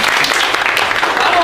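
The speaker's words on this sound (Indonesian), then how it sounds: "boleh tepuk tangannya dulu" Brief burst of clapping from a high-school class audience, loud and close, with a dense wash of hand claps throughout.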